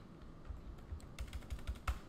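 Typing on a computer keyboard: irregular bursts of close key clicks that start sparse and then quicken into a dense run of taps, with no voices.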